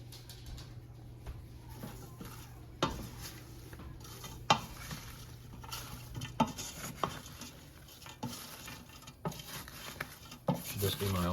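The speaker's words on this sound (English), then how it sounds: "Stir it all around after you add it to the cucumbers and onions." Pickling salt stirred into cut cucumbers and onions in a bowl, with scattered scraping and light clinking strokes over a steady low hum; fairly close and moderately quiet.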